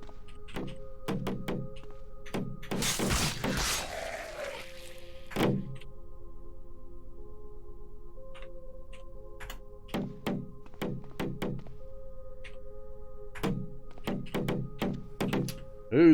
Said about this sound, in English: Who's banging? Zombie brute.